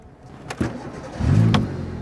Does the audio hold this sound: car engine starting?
yes